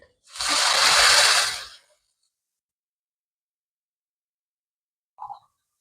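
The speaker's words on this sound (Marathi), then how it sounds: "तर ह्या फोडणीमध्ये आपण पाणी घालणार आहोत" Water poured into a hot Marathi-style tempering (phodni) in a pan for patvadi rassa, one loud sizzling hiss lasting about a second, then near silence with a brief faint clink.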